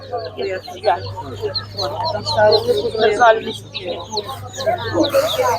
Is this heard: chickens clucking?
yes